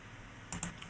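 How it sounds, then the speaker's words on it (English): A couple of quick key taps on a computer keyboard during CAD sketching in Fusion 360, soft and close against a quiet room hiss with no talking. "So I'm going to hit D on my keyboard."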